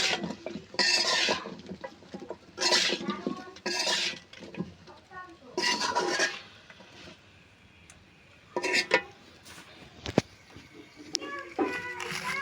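Cauliflower and fish curry being stirred in a pan with leftover spices, utensils scraping and clinking against the pan in repeated bursts, with a voice and other voices heard in the background.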